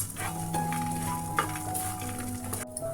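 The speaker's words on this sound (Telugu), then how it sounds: "2 స్పూన్లు నువ్వులు, 1/2 స్పూన్ జీలకర్ర, 1 స్పూన్ ధనియాలు వేసుకుని దోరగా వేయించుకోవాలి." Sesame, cumin and coriander seeds dry roasting in a pan, giving a continuous soft sizzle and crackle with occasional scrape-like stirring, steady and close throughout.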